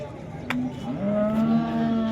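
At a cattle market, a cow lets out a drawn-out, low moo, with a shorter call just before it, over a faint murmur of background noise.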